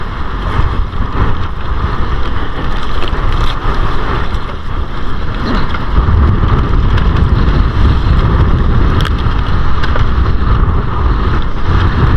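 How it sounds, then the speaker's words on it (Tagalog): Steady, loud roar of wind and rushing waves out on open water during lobster fishing, with gusts buffeting the microphone throughout and no voices. "Sunod sa hangin at alon."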